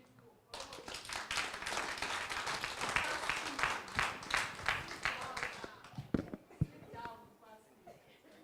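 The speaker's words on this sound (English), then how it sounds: "Let's give him a round of applause." Applause from an audience after a presentation at a municipality strategic planning session, dense clapping that swells and then thins into scattered claps and a few voices toward the end.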